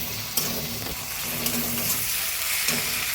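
Sliced onion sizzles in hot oil in a pan with whole cumin, cloves, cardamom, cinnamon and bay leaf, a steady close hiss with a few soft clinks and bumps of stirring, no talking.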